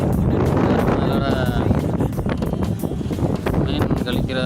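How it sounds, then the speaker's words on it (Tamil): Strong wind buffets a fishing boat out at sea, a steady loud rush of wind noise across the microphone with voices talking over it throughout. "காற்று ரொம்ப உரமாக இருக்குது."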